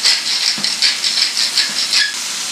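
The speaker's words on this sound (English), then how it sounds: "Saute the mushrooms until they start to release their juices" A pan of mushrooms with salt, pepper and garlic sautéing, giving a continuous bright hiss with a pulsing, crackling texture, loud and close with no talk.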